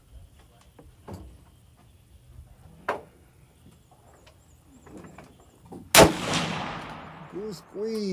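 A single sharp rifle shot from a Bergara B14HMR cracks out loudly at an outdoor range, with a ringing tail, after several softer knocks and handling sounds.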